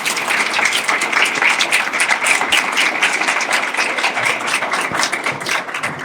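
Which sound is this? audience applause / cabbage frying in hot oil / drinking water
audience applause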